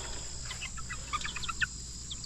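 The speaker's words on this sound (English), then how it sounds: "this is the only rooster. All the rest of them are hens." Hens and a single rooster clucking softly in a coop, several short overlapping calls scattered over a steady background hum, fairly close and moderately quiet, with no talking.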